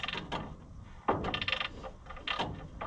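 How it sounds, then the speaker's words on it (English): A ratcheting wrench clicks through several short bursts of ratcheting while fitting a thermostat on an Oliver 1655 tractor. The clicks come close and fairly loud, with brief pauses between them. "while you're trying to also hold back against it so that it ratchets"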